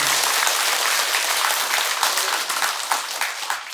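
Applause from an audience at a Buddhist temple dharma service, the hall's steady dense clapping going on for the whole stretch at an even, full level with no talking over it.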